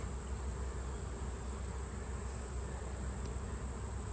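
Honeybees from combined hives in Ohio during an October inspection, a dense steady buzzing hum from many bees close by, continuous with no talk.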